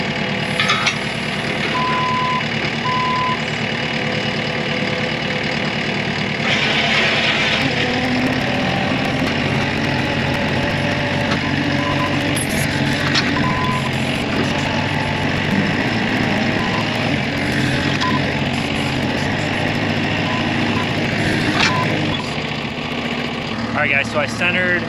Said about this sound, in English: I centered my auger in that orange circle